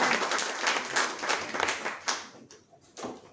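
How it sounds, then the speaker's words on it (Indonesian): A congregation claps during a church sermon, a short burst of moderately loud applause that thins out into a few isolated claps after about two seconds. "Tepuk tangan dulu buat Tuhan Yesus"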